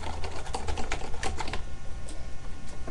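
A small handheld herb grinder with sticker-covered sides gives off a rapid series of sharp, close clicks as it is twisted, the clicking dense at first and then thinning out.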